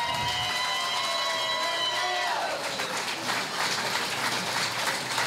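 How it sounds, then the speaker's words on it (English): Steady applause from a crowd fills the space throughout, dense and continuous, with a faint tonal hum fading out early on. "A big round of applause."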